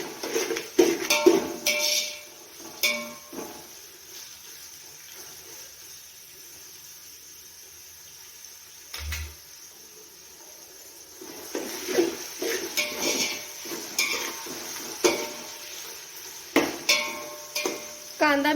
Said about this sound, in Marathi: तेलामध्येच टाकते चवीनुसार मीठ जेणेकरून आपल्या मिरची आणि कांदा लवकर फ्राय होईल मिक्स करून घेते